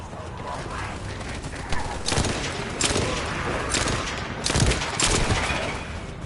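Bursts of gunfire in the shooter game The First Descendant crackle in several rapid volleys over a constant background of game ambience and effects.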